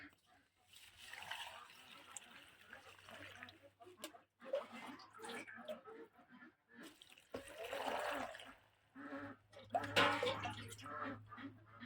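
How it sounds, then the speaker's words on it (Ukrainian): Cold well water poured from a vessel over tomatoes and dill packed in a jar for fermenting, with splashing and trickling in several bursts and pauses, close by and fairly quiet. "і заливаю холодною водою в мене з криниці"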